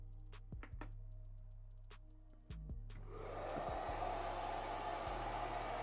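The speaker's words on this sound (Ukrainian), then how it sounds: "і запускаємо фен" A hair dryer running off a Bluetti AC70P portable power station clicks on, its motor whining up into a steady, loud blowing roar that continues alone to the end.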